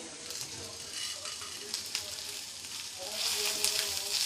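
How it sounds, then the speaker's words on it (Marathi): Cinnamon and coriander seeds lightly frying in oil for mushroom masala, a soft steady sizzle with faint stirring movements that grows slightly louder toward the end. "आणि हे आपण थोडंसं हलकंसं भाजून घेऊया"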